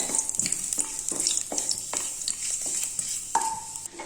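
Whole cardamom and allspice leaves fry in hot oil in a pan, a steady close sizzle broken by several light stirring scrapes at a regular pace.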